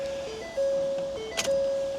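A Ford F250 truck's key-in-ignition warning chime sounding as a steady, repeated electronic tone, close and clear, with a brief mechanical click partway through.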